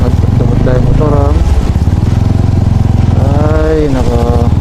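A motorcycle engine runs loud and close, a steady rumbling drone throughout with voices talking over it.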